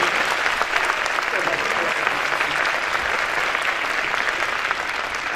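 Steady, dense audience applause filling a lecture hall, loud and continuous throughout with no pauses.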